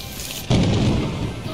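A lightning strike in the Lethal Company video game lands as a sudden loud thunderous boom that cuts in abruptly and holds as a heavy rumble.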